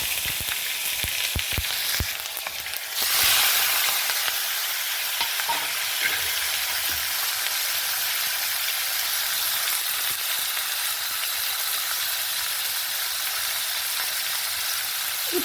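Chopped tomatoes dropped into hot oil with tempered mustard seeds and cumin for a lentil-free kuzhambu, starting with a burst of loud sizzling and settling into continuous close frying crackle, no voices.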